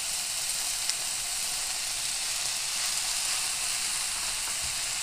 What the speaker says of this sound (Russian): Капусточка у меня жарится.